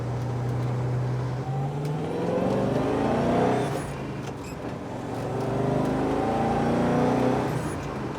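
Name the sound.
V8 A9X hatchback car engine revving while driving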